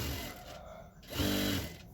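A sewing machine stitches a ladies' pant in a short, close run, with a steady mechanical whir that eases briefly and then picks up again.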